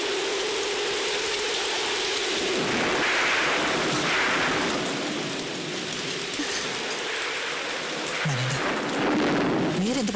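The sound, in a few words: heavy rain with thunder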